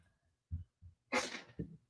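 A single sharp sneeze, preceded by a couple of quick inhaling breaths and followed by a short exhale, close and fairly loud.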